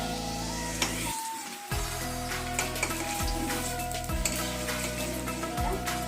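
Paneer cubes frying in a pan, a steady bright sizzle running throughout with a few soft stirring scrapes and clinks, close and alone.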